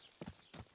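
A horse in Kingdom Come Deliverance 2 takes a couple of quiet, brief hoof clops on the ground, faint and isolated.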